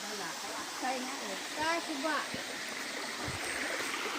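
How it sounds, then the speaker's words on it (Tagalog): Cold spring water running at Busay Falls in Sitio Kanturayan, Bugasong, Antique, a steady close rush and trickle, with people talking over it throughout. "Lamig ang tubig na dumadaloy galing sa bukal"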